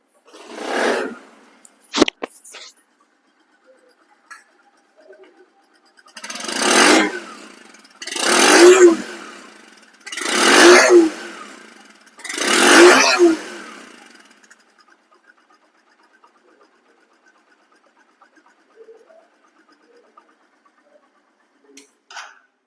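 A Bajaj Platina 100cc motorcycle kick-started after sitting with a dead battery: a few sharp knocks early on, then four loud revving bursts a couple of seconds apart, fading to a faint idle and near quiet.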